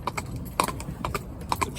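A horse's hooves clip-clop in an even, moderately close rhythm of several sharp knocks, with faint background noise between steps.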